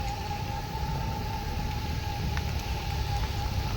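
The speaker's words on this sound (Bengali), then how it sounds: "মারাত্মক বৃষ্টি হচ্ছে" Rain falls on a Ganges riverbank during a sunny-and-showery outdoor picnic, giving a steady, even hiss of broadband patter throughout with no talking.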